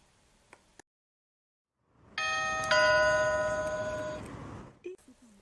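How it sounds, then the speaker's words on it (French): A toy shop doorbell from a Duplo train set rings out loudly after a brief silence, a bright chiming tone that sustains and slowly fades over a couple of seconds, with faint clicks before and after. "Oh, une sonnette!"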